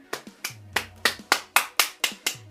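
A single person clapping in a steady, even rhythm to mimic crowd claps at a concert: about nine sharp, close claps in quick succession with no talking.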